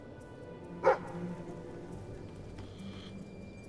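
A dog barks once in Fable III, a single short bark standing out at moderate distance over a steady low ambient bed, followed by quieter game atmosphere.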